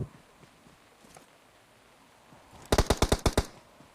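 A rapid burst of automatic gunfire in the PUBG Mobile battle royale game, recorded through a Samsung A50s phone's built-in audio, comes as about eight sharp shots in quick rhythm after a quiet stretch of faint game ambience.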